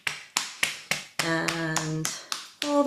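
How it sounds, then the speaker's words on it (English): Hands tap briskly up the outside of an arm in quick, sharp pats, each a crisp percussive hit, close by, with a sustained voice singing under the later taps. "And tapping your way back up the outside of your arm, all the way, giving yourself a pat on the back."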